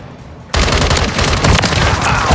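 Loud, sustained automatic gunfire in the video game Modern Warfare 3 bursts in after a brief quiet moment. It becomes a dense, continuous rattle of rapid shots that stays close and intense.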